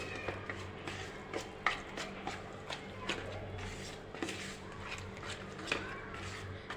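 Semolina batter for spinach dhokla being stirred with added water in a bowl, producing rhythmic soft thuds and scrapes that repeat steadily up close at a low level, without speech.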